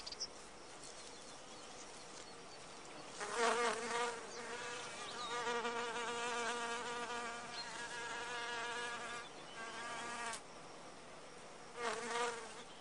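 A male wasp buzzes around an orchid in swelling and fading drones, its wingbeat hum rising as it passes close and thinning as it moves off, with no voices.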